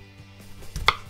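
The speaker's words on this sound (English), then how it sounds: "Slice your potatoes very carefully." One crisp knife cut through a firm potato onto a cutting board, close and brief, after a moment of quiet.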